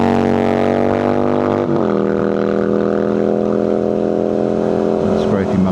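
Motorcycle on an open road, heard from a rider's helmet, with a steady engine drone and a brief pitch sweep as another two-wheeler draws past; no speech.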